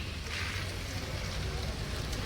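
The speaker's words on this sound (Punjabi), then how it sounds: "ਬਾਰਿਸ਼ ਪੈ ਰਹੀ ਹੈ" Heavy rain falling steadily, a dense, even hiss of drops on surfaces, close and unbroken throughout the short stretch.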